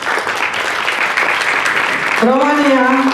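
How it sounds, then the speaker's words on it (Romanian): Audience applause at a Romanian panel event as guests are welcomed, a steady wash of clapping throughout, with a voice briefly rising over it near the end. "să-i întâmpinăm un aplauze"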